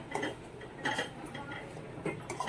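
Dates are stirred and roasted in ghee in a kadai, heard as soft, irregular metal scrapes and taps of a spoon against the pan, faint and close, with no talking.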